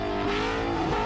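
A car's engine and exhaust in Need for Speed The Run drone steadily up close, with a short, loud, continuous roar and no voices.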